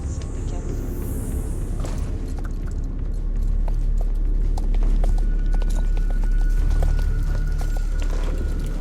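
Horse hooves clip-clop at a steady walking pace in the online game Star Stable Online, with rhythmic, close hoofbeats over a continuous game soundscape.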